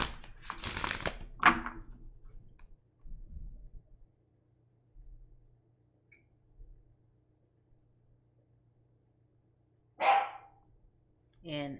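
A pet dog named Sasha barks indoors, a few sharp, close barks spread far apart with long quiet gaps, alongside a person's voice and some rustling.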